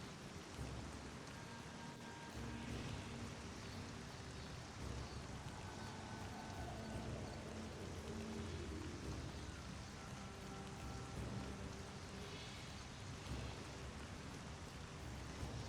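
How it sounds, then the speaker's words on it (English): Steady rain falls and patters on surfaces outdoors during a walk, a continuous broadband hiss that holds at an even level throughout with no voices. "It is a raincoat, and it is raining"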